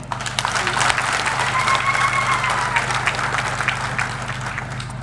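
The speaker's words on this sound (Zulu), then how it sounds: "isukume samukele u-M.E.C kaMadlopha Mthethwa sishaye ihlombe." Audience applause at an agriculture and rural development gathering, a steady dense wash of many hands clapping that stays loud throughout, with faint voices mixed in.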